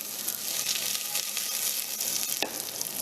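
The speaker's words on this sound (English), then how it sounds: "So we put the onion in first because onions can last long for saute." Chopped onion sautés in a hot, smoky pan for seafood thermidor, giving a steady close-up sizzle with light scraping and one brief louder crackle near the end.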